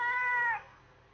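A cat gives one clear, fairly loud meow that holds steady for about half a second before cutting off, close by in a quiet room.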